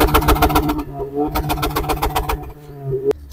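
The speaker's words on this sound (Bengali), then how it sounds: "গাড়িতে ঢুকার পর আপনাদের আমি যদি গাড়িটা রেভ করি," A modified 2020 Tata Harrier's engine revs through its aftermarket exhausts, a deep rumbling drone rising and falling in pulses at close range, with someone talking over it throughout.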